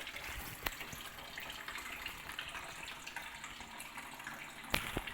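Antifreeze coolant drains from the engine of a Suzuki Grand Vitara J20A in a steady, faint, continuous gush and trickle of liquid, with a couple of soft knocks.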